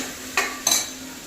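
Black-eyed peas, soaked and washed, tip into a pan of curry leaves and seasoning in two quick rattling pours over a faint sizzle, with no one speaking.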